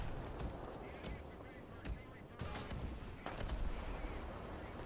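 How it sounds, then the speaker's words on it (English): A mortar fires in War Thunder, a sharp thump among several scattered bangs and booms over a rumbling battlefield ambience. "I launched a mortar and we'll see what happens"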